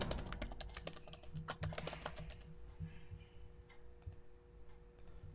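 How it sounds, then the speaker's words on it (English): Rapid bursts of typing on a computer keyboard, dense clicking keystrokes for about two seconds, then thinning to a few scattered taps; close, quiet and alone. "To add the text, go to insert text box and just type your text here."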